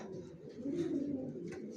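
Young racing pigeons of the Janssen line coo softly nearby, a low, murmuring warble that swells and fades over a couple of seconds in a quiet loft.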